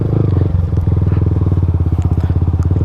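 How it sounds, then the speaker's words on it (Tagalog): A motorcycle engine chugs loud and close in a fast, steady rhythmic putter, as if riding along, with faint talk underneath. "Taas ang motor ni sir dyan eh."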